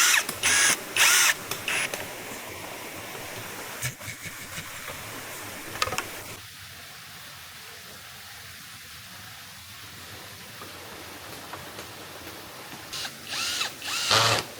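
A power drill fastens boards onto a bamboo cabin platform in a forest, with bursts of whirring at the start, a brief burst near the middle and another at the end, separated by quieter stretches of faint mechanical noise.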